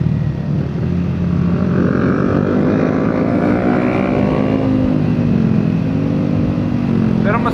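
Loud motorcycle engine with an aftermarket exhaust, a continuous rumbling drone with rising pitch sweeps as it revs, close by and steady throughout.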